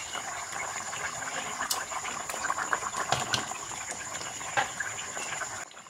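Rohu fish pieces drop into a pumpkin curry already at a boil, a steady bubbling simmer with soft splashy plops and clinks close by, no talking.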